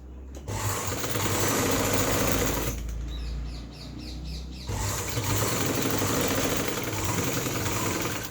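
Sewing machine running steady, loud top-stitching along the front of a blouse neckline, two bursts of close mechanical whirring separated by a short pause.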